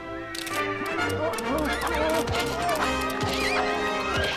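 A horse neighs in the LEGO Indiana Jones video game, several whinnies rising and falling over game music and soft hoofbeats, with speech-like voices mixed in.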